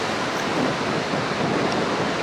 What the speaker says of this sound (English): Try to block that wind again.